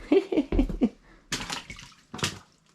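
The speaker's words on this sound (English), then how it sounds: "Let's start splashing around." Feet in boots splash through flood water in a cluttered motel, a few quick sloshing steps followed by two louder separate splashes, close and fairly loud.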